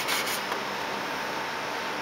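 Sandpaper of 320 grit rubbing over the plastic hull of a Seaview model submarine, a steady close dry rasp that runs on without a break, slightly stronger in the first half second.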